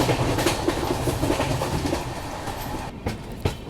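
The Udhna Banaras Express runs on rails near Gwalior, heard from inside a coach. A loud, continuous rumble carries rhythmic clickety-clack wheel beats and a few sharper jolts toward the end.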